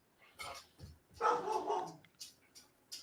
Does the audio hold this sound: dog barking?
yes